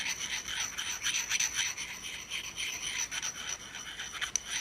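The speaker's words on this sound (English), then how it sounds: "I'm going to take a ceramic rod and just on the side with the X, I'm going to dull this thing up right on the edge" Ceramic rod rubbed along the edge of a Sirius Evolution 2.0 single-bevel 200-grain broadhead to dull it: close, continuous scraping and rasping strokes with a bright metallic edge, steady in rhythm and heard alone.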